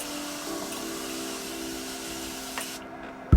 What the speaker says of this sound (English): now I'm just going to add some setting spray.